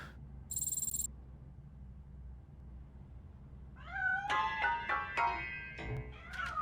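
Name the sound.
cat meowing in RoboCop Rogue City video game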